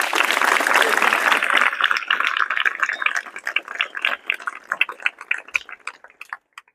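Students at a school event in Dharamkot Randhawa applaud loudly, a dense burst of clapping that thins into scattered claps and then fades out.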